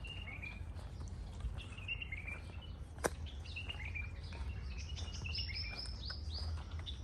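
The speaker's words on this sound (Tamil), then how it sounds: "இதில் குருவி சத்தம் கடுமையாக இருக்குது" Many birds chirp and tweet among date palms in the Al Ain oasis in the UAE, with overlapping high calls near and far over a steady low hum, plus one sharp click partway through.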